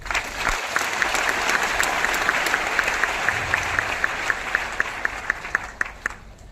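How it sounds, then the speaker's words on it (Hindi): Audience applause at a DXN business talk, a sustained crowd clapping that gradually thins to a few sharp, evenly spaced claps near the end. "आपको बड़ा ताली होना चाहिए।"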